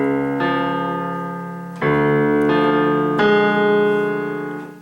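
Piano left-hand part alone for the opening two measures of a piece from Over the Garden Wall: sustained low notes struck at a slow, steady pace, each chord ringing and overlapping the next, close and clear with no talking.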